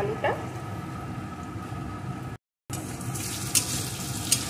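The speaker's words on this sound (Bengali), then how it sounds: "আলুটাকে একটু ভেজে নেব।" Potato pieces frying in a pan of hot oil, a loud continuous sizzle close by with a brief dropout partway through and a couple of sharp crackles near the end.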